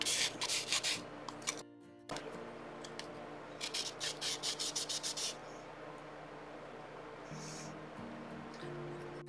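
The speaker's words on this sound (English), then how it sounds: "Anywhere you can shine, you need to scratch that up." Scratching up a glossy cured UV resin surface on a dragon egg ornament, heard as quick, dry rubbing strokes close by, coming in rhythmic bursts with a short pause partway through.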